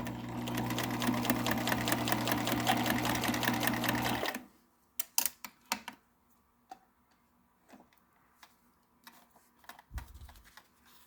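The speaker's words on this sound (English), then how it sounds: "it's much easier to keep it together while you sew the rest of the full seam in place." A sewing machine stitches a seam on fabric cabin window covers, a fast steady mechanical whirr for about four seconds, then stops, followed by scattered clicks and handling of the cloth nearby.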